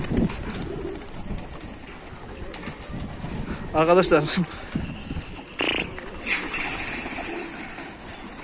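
Adana pigeons in a loft coo and flutter, with brief wing flaps and calls rising over a steady background; someone talks throughout.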